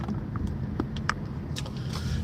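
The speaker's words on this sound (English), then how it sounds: "Lots of traffic." Road traffic passing a streamer, heard as a steady low rumble with occasional faint clicks and swishes, fairly distant and quiet throughout.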